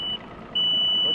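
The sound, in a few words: Mercury boat motor warning beeping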